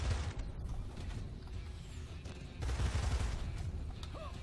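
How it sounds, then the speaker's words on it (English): An assault rifle firing in Immortal Redneck, a dense burst of rapid, fairly quiet shots with mechanical clatter, a pause of softer rattling, then another rapid burst. "Assault rifle, not the best rifle class weapon, but far from the worst."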